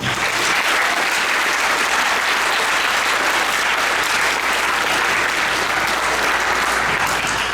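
Loud, dense applause from a middle school awards audience for the award winners, a continuous wash of many hands clapping close to the microphone with no pauses.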